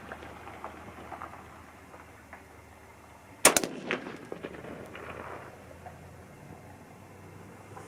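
A single sharp 6.5 Creedmoor rifle shot cracks out loudly at close range, followed by a brief rolling echo over faint outdoor background noise.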